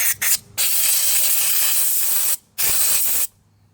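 Compressed air blasts debris out of the exhaust pipe of an old 1960s Goodall three-blade mower, in three loud, steady hissing bursts separated by short gaps, close to the microphone with no talk.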